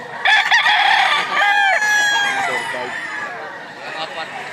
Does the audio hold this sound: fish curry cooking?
no